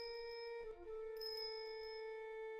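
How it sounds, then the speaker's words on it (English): A distinctive assassin's bell rings in Ace Attorney Investigations, a sustained clear metallic tone with a shimmering higher chime joining partway, ringing alone and fairly quietly. "He always appears at the sound of a bell."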